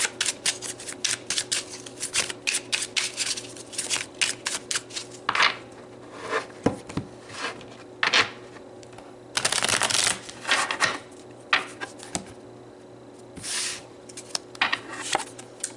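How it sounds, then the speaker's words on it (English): Tarot cards are shuffled and pulled from a deck for a reading, giving a quiet run of crisp riffling bursts and flicks separated by short pauses. "So let's pull some more cards and get more information."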